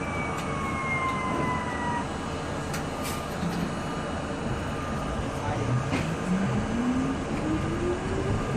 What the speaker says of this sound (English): Hear the fire department responding in the background, using that horribly fake Q siren wannabe, the EQ2B siren